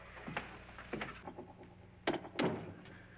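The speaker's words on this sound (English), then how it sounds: "Now, I'm going to knock on the other wall." Knocks on a wall in the 1959 haunted house film House on Haunted Hill, several faint hollow raps spaced apart, followed by two louder, closer thumps.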